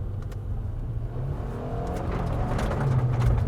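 A 2023 Subaru WRX with a CVT accelerates hard using paddle shifts, engine note building steadily and growing louder from inside the car over a few seconds.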